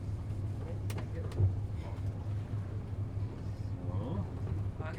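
Engine of a sailing yacht idling after docking in Grenada, a steady low rumble running throughout with people talking over it.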